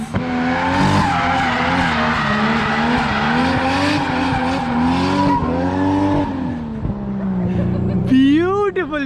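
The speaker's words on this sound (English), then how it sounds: "Beautiful drift." Loud engine revving with sustained tire squeal as a modified Lexus GS with a 2JZ engine slides through a long drift on a track, a sharp screech rising at the end.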